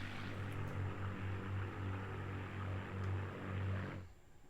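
A fighter plane's propeller engine in the flight game Scramble! Battle of Britain drones steadily and loudly with a pulsing low throb, then cuts off abruptly near the end.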